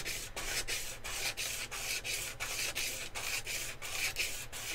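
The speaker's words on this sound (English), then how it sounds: "You just want to focus on that nice sound of you sanding." Rhythmic hand sanding of wood, a steady back-and-forth scratchy rasp repeating about twice a second, close and unbroken.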